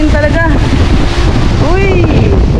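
Strong wind roars across the microphone on a boat at sea off Boracay, a loud continuous rush with excited voices calling out over it.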